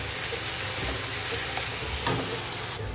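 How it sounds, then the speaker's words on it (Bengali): Onions with two spoonfuls of ginger garlic paste sauté in a pan for butter chicken, making a loud, continuous close sizzle with faint scraping from stirring and no speech. "এখন আদা রসুনের পেস্ট দিয়ে দেবো 2 চামচ ভরে দিলাম, দিয়ে এটাও ভালোভাবে কষিয়ে নেবো পেঁয়াজের সঙ্গে।"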